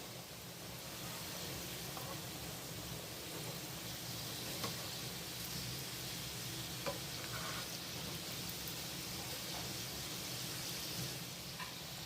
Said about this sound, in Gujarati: સમોસા આપણે ધીમા તાપે તળવાના છે